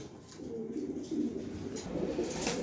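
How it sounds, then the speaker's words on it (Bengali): Racer pigeons at a sale coo softly and repeatedly, a low, faint murmuring close by with no talk over it. "আজকে অনেক কবুতর ছিল"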